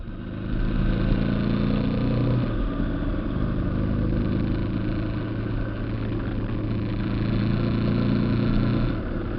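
A Harley-Davidson motorcycle carries a rider and a passenger on a solo bike during a Dandenong Ranges tour near Melbourne. A steady, loud engine drone and road rumble continue without a break, with no talk.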